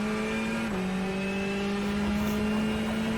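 Ferrari Challenge race car in a racing simulator at Circuit of the Americas, its engine droning steadily under full throttle with a brief dip in pitch as it shifts gear, then climbing again, loud and continuous throughout.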